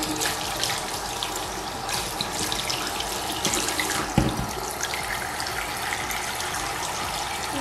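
Hot tap water gushing steadily from a faucet into a sink for washing reusable face masks, a loud, even rushing splash that runs throughout, with one brief knock partway through and no voices.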